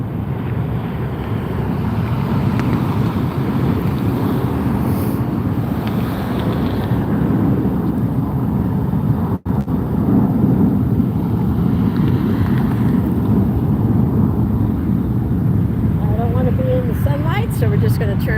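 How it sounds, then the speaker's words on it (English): Hawaiian Airlines Airbus A330 jet engines roaring steadily through takeoff at an airport, a broad continuous rumble heard at a distance over wind buffeting the microphone, with a person talking over it. "Listen to those engines."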